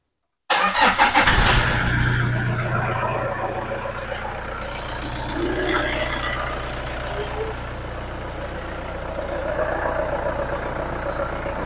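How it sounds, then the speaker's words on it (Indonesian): A diesel engine cranks and fires, then settles into a steady, loud idle with a low rumble throughout, heard after purging the fuel system using a recycled mineral water bottle. "Selanjutnya kita starter mesin ya seperti biasa."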